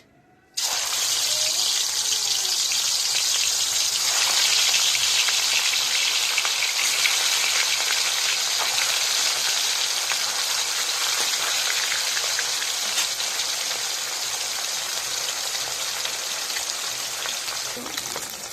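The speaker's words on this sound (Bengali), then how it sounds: "তেল গরম হয়ে গেছে, এবার এর মধ্যে দিয়ে দেবো মাছ।" Mrigel fish pieces dropped into hot oil in a wok set on a stove burst into a loud, steady hiss after a brief quiet moment, then sizzle continuously at close range.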